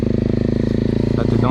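A small 250 motorcycle accelerates up a rutted dirt slope, its engine throbbing in a steady rapid pulse close by, while a voice talks over it.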